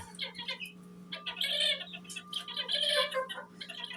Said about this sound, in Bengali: আমার এখানে একজোড়া ব্রাহ্মা মুরগির বাচ্চা আনছিলাম